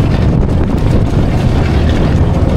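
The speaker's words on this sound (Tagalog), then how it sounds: "lumalakas na yung alon at saka hangin" Loud, constant roar of strong wind and waves at sea, buffeting the microphone throughout with no pauses and no voices.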